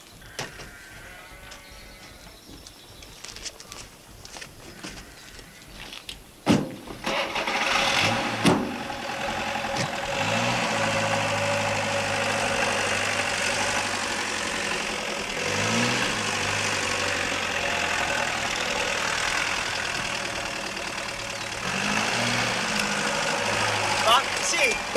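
A car engine starts with a sharp catch and settles into a steady, close idle that runs on, with people talking over it.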